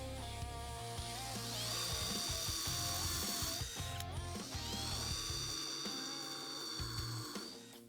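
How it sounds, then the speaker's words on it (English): A power drill countersinking three-inch screws into thick store-bought lumber, a loud close whine that rises and strains as each screw drives in, two bursts in quick succession with no talk. "I'm going to come in and countersink 2 screws into this to hold it together."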